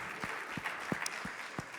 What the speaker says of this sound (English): can we get another round of applause for all 3 presenters?